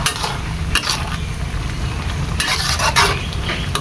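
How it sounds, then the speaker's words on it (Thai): A spoon stirs papaya and minced fish curry in a pot as it cooks, giving close, steady scraping and bubbling with a few sharper knocks against the pot. "หลังจากมะโกเราเริ่มสุกแล้วเราก็คนจ้ะ"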